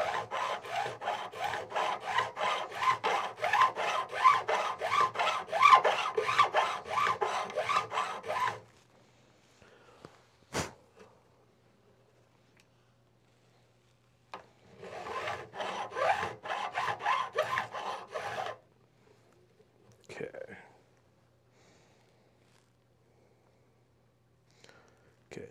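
A file bevels the fret ends on a Martin guitar, rasping in quick, even strokes close up. A long run is followed by quiet, one sharp tap, and then a shorter second run of strokes.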